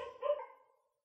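A single dog gives one short, moderately loud bark or yelp up close, trailing off quickly into silence.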